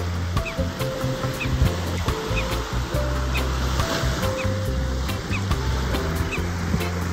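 Beach ambience with ocean waves: a steady, fairly loud wash of surf and wind runs throughout, with a low rumbling hum beneath it.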